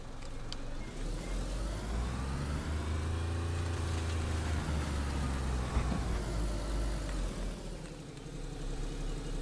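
A car engine humming steadily while driving in the video game DayZ, a continuous low drone with slowly shifting pitch as the vehicle moves, loud and unbroken throughout, with no talking.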